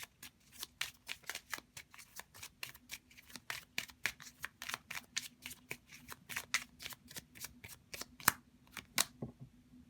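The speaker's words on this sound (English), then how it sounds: "So let's grab a playing card here." Tarot playing cards being shuffled and drawn, a long run of crisp, rapid flicking snaps close up, steady and fairly quiet with a faint background hum.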